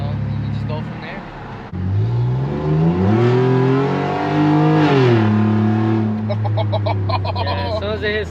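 A modified pickup truck's engine revs hard through the gears, loud and close, pitch climbing, dropping at a shift and climbing again, with people talking over it.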